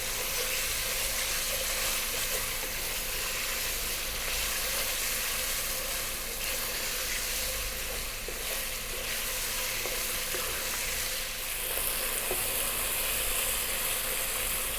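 A beef stew paste with thyme and oregano sizzles in a pot over high heat while being stirred, a constant dense frying hiss with scraping and rattling, steady and close throughout without talk.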